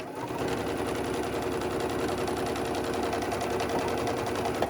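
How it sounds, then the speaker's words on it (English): A sewing machine stitches a fabric face mask with elastic, its steady rapid needle rattle running continuously and close for the whole stretch, with no talking. "coming over and sewing a couple inches, being sure to catch my elastic."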